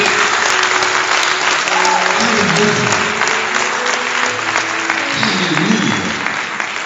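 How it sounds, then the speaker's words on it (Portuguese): A church congregation applauds loudly and steadily throughout, with a voice calling out over the clapping. "Pode aplaudir o Espírito Santo por vocês."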